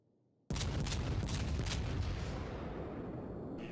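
The battleship Kaiser's main guns fire a sudden heavy salvo in World of Warships, a loud booming blast that rolls and rumbles on for several seconds without easing.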